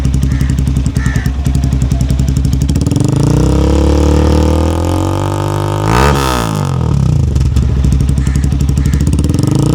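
Zongshen Battlo 5 motorcycle fitted with an aftermarket exhaust idles steadily and loudly up close, its low throbbing pulse continuous throughout, briefly swelling in a short blip near the middle.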